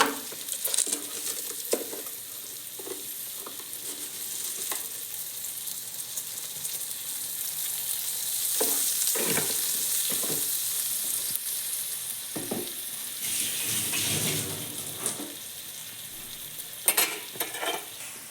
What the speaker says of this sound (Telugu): మీడియం ఫ్లేమ్లో ఇలా వేయించుకోవాలి కొంచెం ఉప్పు